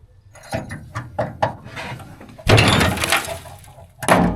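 A hammer and chisel bang and scrape against a metal part of a Zetor tractor trailer being repaired, with several separate clanks followed by a long, loud rattling burst and then another hit, close and harsh.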